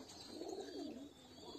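Fancy pigeons, including red and white King and Lakka breeds, give a soft, low cooing that swells and fades over a couple of seconds under steady background hiss, fairly close and moderately quiet.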